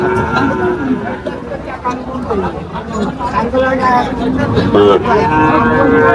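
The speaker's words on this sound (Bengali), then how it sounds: "এইখানে আরো বকনা বাছুর উঠছে" Cattle moo and low repeatedly amid a busy crowd at a cattle market in Faridpur, with voices chattering and calling close by and a steady hubbub throughout.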